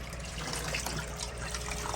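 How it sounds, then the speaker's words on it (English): Dirty aquarium water drains through an opened valve into a hose, a steady broadband rushing trickle that holds constant and fairly loud for the whole stretch with no voices. "that will pump out some more of this dirty water out of there."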